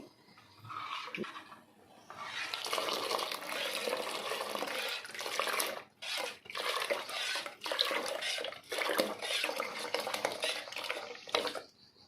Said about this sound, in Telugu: ఈ రవ్వ ఉంది కదా ఇది దీంట్లో పోసేయాలి